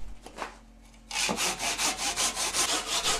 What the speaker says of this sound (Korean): 끼운 나무를 다시 잘라냅니다.